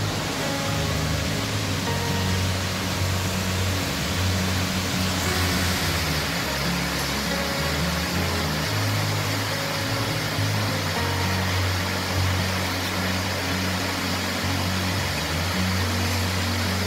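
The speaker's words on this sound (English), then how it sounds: "this is my favorite view of Foster Falls" Foster Falls in Tennessee roars as a steady, broad rush of falling water, loud and continuous with no voices over it.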